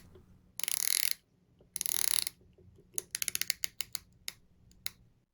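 The scalloped bezel of an Omega Seamaster watch turns with crisp, close mechanical clicking: two short rapid ratcheting bursts, then a series of distinct single clicks in quick succession, alone in quiet.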